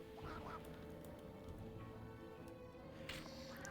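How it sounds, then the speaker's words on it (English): Ducks quack repeatedly in the video game MediEvil Resurrection, with short nasal calls rising over a busy, steady game soundscape and faint music. "Just shooting these poor innocent ducks."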